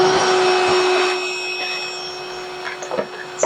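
A Harbor Freight 7-gallon cordless shop vac sucks up debris with a loud, steady motor whoosh, then small rattling clicks as bits clatter up the hose.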